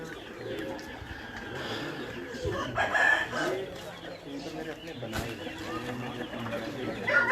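Roosters and other fowl on a farm house near Islamabad, with clucks and an occasional crow mixed into busy bird chatter and pigeon cooing, steady and fairly close, with someone speaking intermittently over it.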